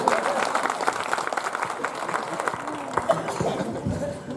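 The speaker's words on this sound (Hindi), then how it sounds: "बजाओ ताली एक बार" An audience claps at a Hindi comic poetry recital on stage, a lively uneven burst of applause mixed with crowd murmur and chatter that thins toward the end, with voices heard talking underneath.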